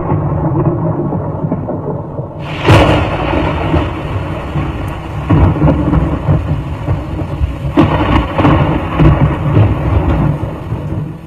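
Thunderstorm in Brisbane at about 6:30 in the evening, with steady heavy rain and rumbling thunder throughout and two loud, sharp cracks near the start and middle, no talking.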